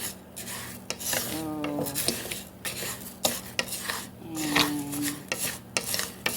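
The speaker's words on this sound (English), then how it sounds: "mixing, mixing this or stirring this rice, and so it won't get burned" A spoon scrapes and rasps around a pot of Mexican rice being stirred, in repeated close strokes with small clinks against the metal, with brief speech between.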